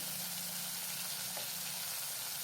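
Asafoetida and turmeric sizzle with garlic in hot oil in a pan for a yam (suran) curry, a soft, steady frying crackle throughout, quiet and close, with no talk.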